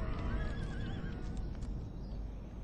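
Horses whinny during a cavalry charge in Shogun 2: Total War, the cries rising over dense low rumbling and hoofbeats, with no voices.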